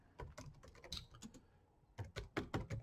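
Typing on a computer keyboard, quiet close key clicks in two quick clusters separated by a short pause, no talk.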